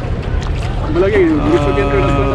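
A tourist boat glides along a river in Ninh Binh, its motor and water wash a steady, close rumble mixed with wind buffeting, while a voice talks over it.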